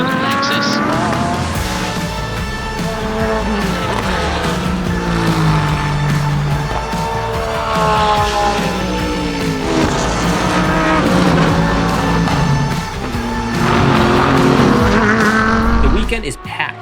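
Race cars, including a yellow Lexus, charging toward the horseshoe at Virginia International Raceway, with engines howling and shifting in overlapping rising and falling whines, loud and continuous under race commentary.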